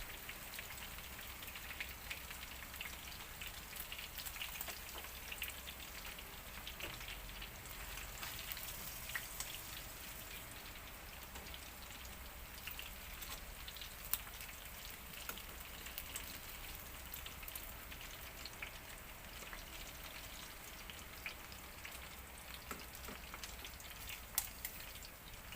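Fish sizzling and spitting in hot oil in a pan for a sour fish soup with mango, a steady crackling hiss with no pauses and no talk.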